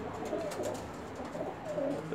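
Bulgarian pigeons, a breed poorly suited to long flight, coo softly in a low, rolling rhythm, a few faint repeated calls heard close by with no talk.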